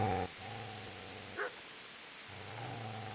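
A dog in the video game Kingdom Come: Deliverance gives a few short barks and yips, with one sharp bark in the middle over a low steady background hum.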